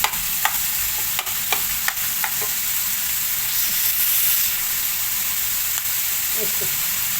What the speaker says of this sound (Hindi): चिकन को पहले हम सौटे करेंगे। अदरक लहसुन और जो हरी मिर्च डालें उसके साथ में